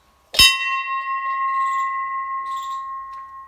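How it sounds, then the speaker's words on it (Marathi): A temple bell is struck once up close, a bright clang with a clear ringing tone that hangs and slowly fades over several seconds, with no voices around it. "हे बघा, मंदिराची घंटा"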